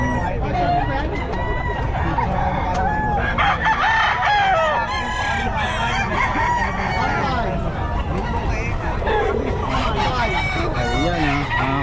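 Roosters crow repeatedly amid clucking fowl at a busy pet market, loud and close, with several overlapping crows under steady crowd chatter and nearby talking.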